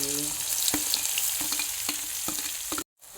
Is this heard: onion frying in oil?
yes